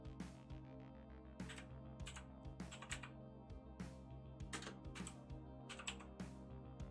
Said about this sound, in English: My keys are very clicky.